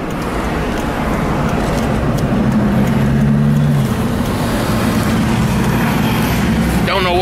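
A car sits idling at a red light amid road traffic, with a steady engine rumble and the wash of passing vehicles, while someone talks over the noise and a brief tonal whine rises near the end.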